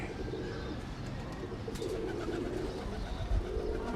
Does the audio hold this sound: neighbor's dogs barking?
no